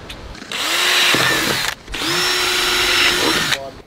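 A power drill bores holes in a length of PVC pipe during a home build in the Panamanian rainforest, running in two strong, sustained bursts with a short pause between them, loud and close.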